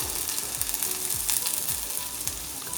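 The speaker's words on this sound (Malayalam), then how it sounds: "ഈ നെയ്യൊന്ന് ചൂടായി വരുന്ന സമയത്തേക്ക് നമുക്ക് അതിലേക്ക് നമ്മൾ എടുത്തു വെച്ചിട്ടുള്ള സ്വീറ്റ് കോൺ ഇട്ട് കൊടുക്കാം" Sweet corn kernels sizzle in hot ghee in a pan, a steady close frying hiss with soft repeated scraping of stirring throughout, no voices.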